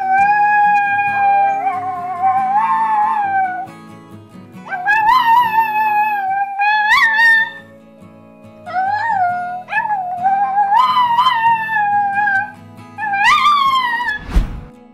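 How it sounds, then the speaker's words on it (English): A tiny Chihuahua puppy howls together with its owner, rising and falling high-pitched howls in several bouts, close and clear, ending with a short bump. "This tiny Chihuahua puppy joins in harmony with its owner, howling along in a delightful duet"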